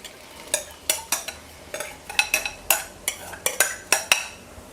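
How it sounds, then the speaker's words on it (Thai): Corn kernels tip into melted sugar with knotted pandan leaves over medium heat, then a spoon stirs them in a pot, giving a close series of sharp scraping, clinking strokes in an irregular rhythm. "ตอนนี้น้ำตาลละลายแล้วนะครับ ใส่เม็ดข้าวโพดลงไปได้เลย"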